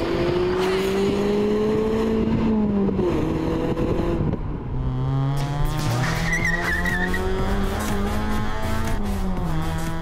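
Mazda MX-5 two-seater roadster driven hard, its engine note rising and falling continuously with loud tyre squeal and skidding layered over it, close and sustained throughout.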